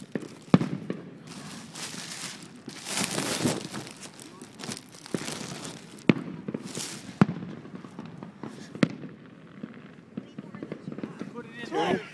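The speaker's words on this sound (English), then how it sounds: "All oh, firecrackers. There's like a hundred of them." Firecrackers pop and crackle in rapid bursts at a Fourth of July celebration, with sharp bangs scattered throughout and people talking nearby.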